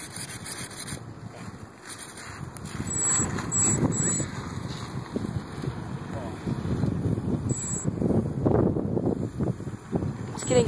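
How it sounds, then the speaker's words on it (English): Gusty wind buffets the microphone with low, rumbling rushes that swell and fade, alongside faint high tones. "It's getting super windy all of a sudden."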